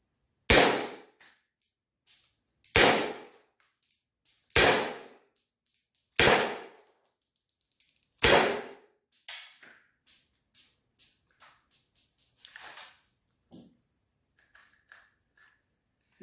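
Byrna SD launcher firing balls outdoors, with five loud, sharp pops spaced about two seconds apart, each trailing a short echo, then a run of fainter, quicker clicks and taps.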